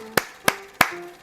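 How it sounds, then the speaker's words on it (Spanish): Three sharp, evenly spaced hand claps ring out alone at night, a traditional call for the neighbourhood night watchman, close and fairly quiet with a faint tonal hum underneath. "Para llamarlos solo tenías que hacer algunas palmas"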